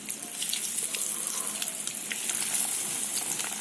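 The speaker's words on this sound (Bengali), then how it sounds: "আমি একইভাবে পরের ব্যাচগুলোকেও ভেজে নেব।" Cabbage balls deep-frying in hot oil make a steady, bright sizzle with crackling pops throughout, close and continuous, with no voices.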